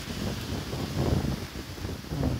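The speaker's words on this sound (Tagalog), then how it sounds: "Talagang malakas ang hangin." Strong gusty wind buffets the microphone in heavy low rumbling bursts, swelling and easing over a couple of seconds, with no talking.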